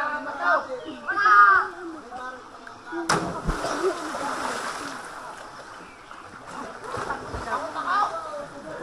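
A person jumps into the pool of Himamawo spring waterfall in Ibaan, Batangas, making one sudden heavy splash among chattering voices, followed by churning, rushing water.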